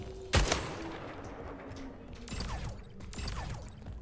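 Gunfire in the arena shooter Splitgate: one sharp shot, then bursts of rapid weapon fire mixed with mechanical clatter and in-game effects, moderately loud.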